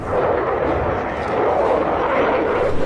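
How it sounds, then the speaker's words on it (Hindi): A Rafale fighter jet roars loudly and steadily, a dense broadband jet rumble filling the whole stretch with no clear breaks. "Rafale fighter jet."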